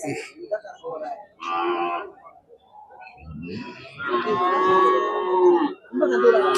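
Cattle at a market, with a restless cow being handled, letting out loud drawn-out moos close by, alternating with bursts of human speech.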